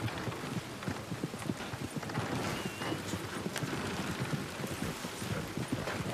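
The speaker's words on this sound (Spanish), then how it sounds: "A ver si viene mi caballo por allá." Horse hooves clip-clop on dirt ground in a steady, fairly close rhythm, with a soft noisy background like light rain.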